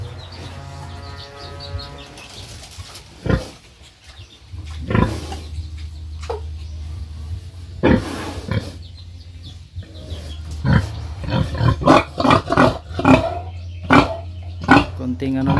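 A pregnant sow on a farm, carrying her second litter, grunts and snorts in short bursts that mix with a person talking over much of the clip.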